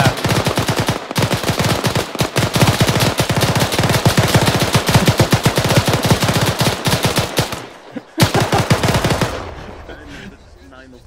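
Sustained machine gun fire in a video game battle rattles in dense rapid bursts for most of the stretch, loud and continuous, with a brief pause near the end before more firing trails off.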